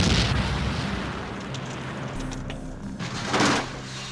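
A car's fuel tank exploding: a loud, dense, roaring blast with rumbling low end and crackling debris, swelling again into a second burst near the end.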